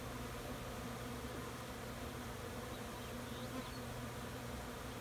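A swarm of honey bees at a backyard hive, a dense continuous buzzing drone that stays steady and close throughout, with no voices.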